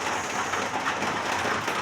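Rain falls on a Sunday as a constant close hiss of dense droplets, even and unbroken, with no talking over it.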